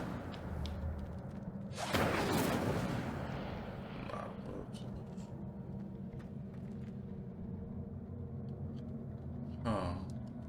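The Incendio fire spell is cast in the Hogwarts Legacy video game, producing a sudden loud whooshing burst of flame over a low rumbling background, with a second, shorter fiery whoosh near the end.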